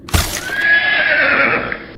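A horse neighs loudly and close as a dramatic story sound effect, a sharp opening burst followed by a long, quavering whinny that trails off after about two seconds.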